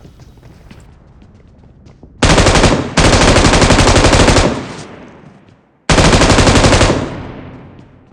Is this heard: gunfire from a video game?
yes